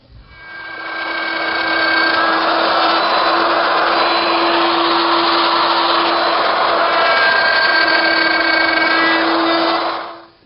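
A router cuts dovetail tails in a jig on the front panel of a wooden toy chest. It is a loud, steady high-pitched whine that holds at an even level for about eight seconds, then spins down at the end.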